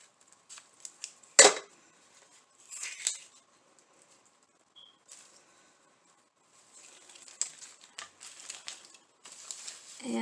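Scissors snip artificial flower stems during a craft project, a few sharp isolated cuts scattered among quiet gaps and light handling rustles, close by.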